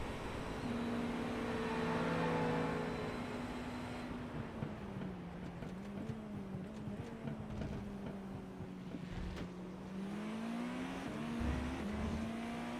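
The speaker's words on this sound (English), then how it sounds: "we can listen to the Porsche" Porsche race car engine in the iRacing sim at Monza or Le Mans, a loud, steady drone heard from the cockpit as the pitch rises and falls through gear changes, with no talking.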